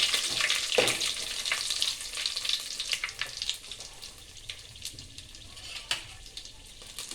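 Bay leaves and red chilies fry in a pan for masala rice, a fairly quiet crackling sizzle broken by irregular scraping stirs and small pops.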